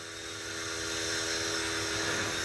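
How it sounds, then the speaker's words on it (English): A radio-controlled model helicopter flies far off, giving a steady high-pitched whine that slowly grows a little louder as it returns, with no talking. "the helicopter is almost not visible, but I'm flying back to us now"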